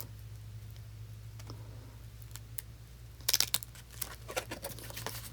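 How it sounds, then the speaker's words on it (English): Quiet paper rustles and soft flicking clicks come in irregular bursts, busier toward the end, like pages being turned over a low hum. "I'm flipping through my book"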